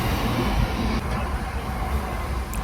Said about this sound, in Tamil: 3 ட்ரெயின் இதோட போயிடுச்சு நமக்கு.